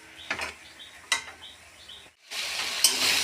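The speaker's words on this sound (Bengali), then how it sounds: "ভালো করে এটাকে ভেজে নেব।" Jute leaves fry in a pan with turmeric and salt, with a few scraping stirs and clicks over a faint sizzle, then a louder, steady hiss rising near the end.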